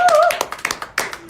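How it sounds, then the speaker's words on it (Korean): Brief, scattered clapping from a small group in a studio, a handful of separate sharp claps spread over a second or so, with a voice speaking over them. "우리 박수 한번."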